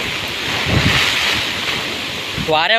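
A steady roar of strong wind and heavy monsoon rain in Sindhudurg on the Konkan coast fills the scene, with gusty swells throughout and a brief voice near the end.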